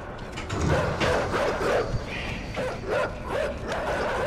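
Dogs in the video game INSIDE give repeated short barks and yips at moderate distance, an uneven run of barks scattered over a few seconds amid the game's background noise.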